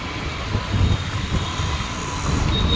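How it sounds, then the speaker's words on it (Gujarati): An Ahmedabad metro train passes at a distance, a steady broad rumble and whoosh that swells slightly near the end, with no voices over it. "એ જાય મેટ્રો."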